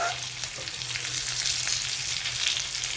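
Capsicum (shimla mirch) peppers sizzle steadily as they fry in a pan for a home-style vegetable dish, a continuous close crackle with no talk.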